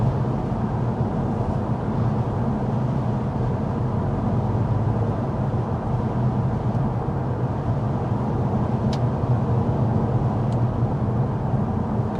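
Steady cabin noise inside a 2026 Toyota Corolla cruising at 55 mph with the fan on its lowest setting: a constant low road and engine rumble with broadband hiss, unchanging throughout.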